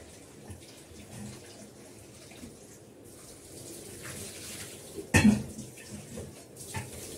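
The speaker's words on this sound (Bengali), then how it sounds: "আমি একটু কড়াটা ভালো করে ধুয়ে দেবো" A wok is washed under running water from a tap, with a low steady splash, a sharp metallic clank midway and a few lighter knocks of the pan.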